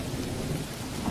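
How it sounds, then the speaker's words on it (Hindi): Heavy rain pours down outside, with thunder rumbling underneath as one dense, continuous roar at a steady loud level, and no voices. "बाहर बहुत तेज बारिश हो रही है"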